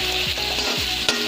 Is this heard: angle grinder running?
no